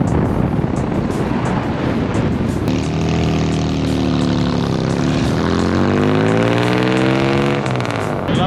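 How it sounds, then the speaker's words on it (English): A 1949 or 1951 Chevy Fleetline Deluxe with Fenton headers drives past loudly, its exhaust note rising and falling through revs, with a rough, popping roar rather than clear separate backfire bangs. "Love the backfire, man."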